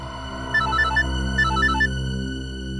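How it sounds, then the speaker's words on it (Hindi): A phone ringtone plays two short bursts of bright melodic beeps over a steady humming drone, fairly loud and with no one talking. "सर, रिंग तो जा रही है।"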